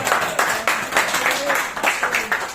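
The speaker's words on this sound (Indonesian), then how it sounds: "Yuk ya, tepuk tangan biar ini." Audience applause at a lively gathering, rhythmic clapping in regular bursts, moderately close, mixed with voices cheering and talking.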